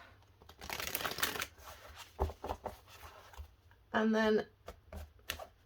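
Tarot cards are shuffled with a crisp riffling rustle, followed by scattered taps and handling noises, and a voice speaks briefly partway through.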